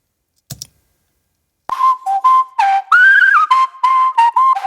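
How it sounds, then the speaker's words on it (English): A library sample of human whistling: a brief breathy puff, a pause, then a bright, clean melodic whistle in short phrased notes and glides, close and alone. "Human whistles."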